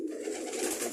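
A kept pigeon gives a brief, close, low coo, heard alone without any talk.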